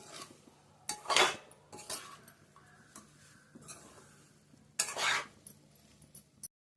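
Spiced masala worked through egg pieces in a pan, with a spoon scraping and clinking against the metal in a few sharp strokes over a faint sizzle, no talking.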